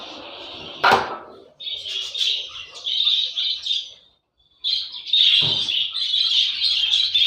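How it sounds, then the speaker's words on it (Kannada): Pet birds chirping in an indoor bird room: bright, high chirps and tweets in repeated bursts, fairly close, with a short pause partway and a couple of sharp clatters or knocks among them. "ಬನ್ನಿ ಬರ್ಡ್ಸ್ ರೂಮಿಗೆ ಹೋಗೋಣ"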